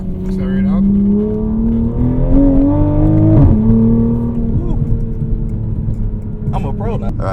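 Loud, close engine of a track-built Toyota Supra pulling hard on public streets, pitch rising over a few seconds, then a shift and a steady roar that eases off toward the end, with voices now and then.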